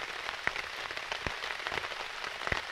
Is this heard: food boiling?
no